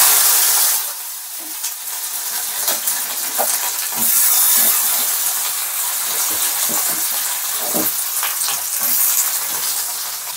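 Spices hiss and crackle loudly in hot oil as chopped radish and beans are added and fried, with a dense sizzle and scattered stirring knocks.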